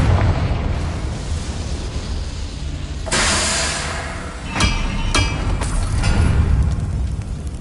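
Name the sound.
Confringo spell explosion, video game Hogwarts Legacy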